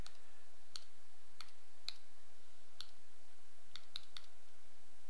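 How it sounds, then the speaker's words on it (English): A calculator keypad being typed on, a series of small, light clicks spaced irregularly over a few seconds, close and faint against quiet background hiss. "I'm going to type that into my calculator"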